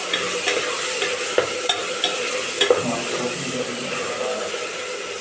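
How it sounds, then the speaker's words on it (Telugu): Mutton biryani mixture with green chillies is stirred in a hot pan, a steady sizzle and frying hiss broken by scraping clinks of the spoon against the pan, with no talking. "మంచిగా కలపండి."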